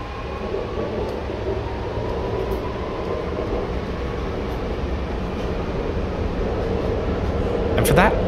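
Sydney Metro Alstom Metropolis train running, a steady rumble and rolling hum heard from inside the carriage, building slightly toward the end, with a voice talking over it.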